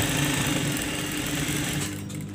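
Sewing machine stitching an abaya, a steady close mechanical whir with a low rhythmic hum running throughout, easing slightly near the end.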